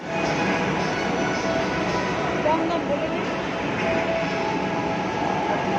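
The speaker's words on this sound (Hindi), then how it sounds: "एक ट्रेन हमारे आंखों के सामने निकल गया" A metro train in Kolkata rolls past at a station, a steady broadband rumble and rail hiss filling the whole stretch at a constant, fairly loud level with people talking over it.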